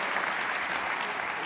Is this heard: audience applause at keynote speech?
yes